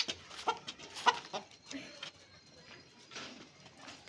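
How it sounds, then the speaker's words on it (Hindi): Chickens and a rooster cluck inside their coop in a short series of close bursts, some sharp squawks standing out, with faint voices in the background. "नहीं जी, मुर्गा अपने पिंजरे में बंद हो चुका है।"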